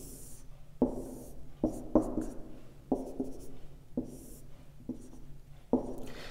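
A pen sketches a graph of a function on paper, giving a series of close, quiet scratching strokes in short bursts with brief pauses between them and no talking.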